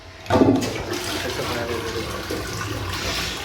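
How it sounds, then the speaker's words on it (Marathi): An automatic toilet at Changi Airport Terminal 4 flushes with a sudden loud whoosh, then settles into a steady rush of draining and refilling water for several seconds. "फ्लश केल्याच्या नंतर"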